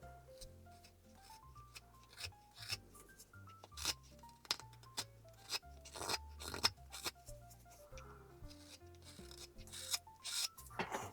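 Whittling knife carving and smoothing the edges of a small wooden elf hat, a series of short scraping and shaving strokes, close and quiet, irregular in rhythm with no talking.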